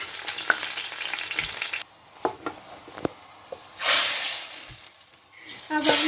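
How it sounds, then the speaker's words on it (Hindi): Garlic hits hot oil for a tadka, bursting into a loud, hissing sizzle that cuts out, returns in crackling pops and surges again, close to the pan. "putting the garlic into the oil, this process was known as tarka"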